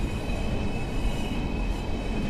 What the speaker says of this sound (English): Here's another train coming up on our left.